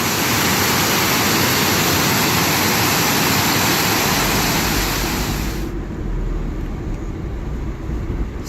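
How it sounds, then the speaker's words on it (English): Twin Falls on Maui pours heavily with high water flow, a loud, steady roar of rushing water that shifts to a duller rumble with some wind buffeting toward the end. "that's a lot of water coming through right now."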